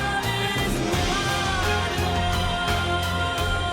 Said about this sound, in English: It's the string line that you're hearing over the vocals.